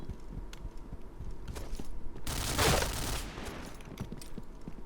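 A JackHammer gun rapid-firing in the video game Point Blank: scattered shots build into a loud, dense burst of rapid gunfire in the middle, then fade back to sporadic pops.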